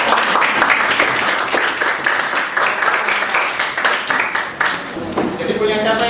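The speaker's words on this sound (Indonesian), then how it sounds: "kita tepuk tangan dulu kelompok." Classroom students clap together for a group, a steady dense patter of many hands filling the room at moderate loudness, with some voices mixed in near the end.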